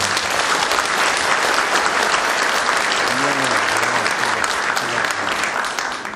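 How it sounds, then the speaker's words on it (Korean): Audience applause at a Democratic United Party leadership election rally in Busan, Ulsan and Gyeongnam, loud sustained clapping from a large crowd, with a brief voice rising over it partway through before the clapping tapers at the end. "큰 박수 한번 보내주십시오."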